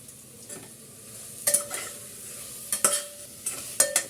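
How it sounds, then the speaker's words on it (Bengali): Chopped tomato being stir-fried in a pan for chicken polao, a soft steady sizzle broken by several sharp scrapes and clinks of a spatula against the pan at close range. "টমেটো দেওয়ার পরে আমি আরো কষাবো।"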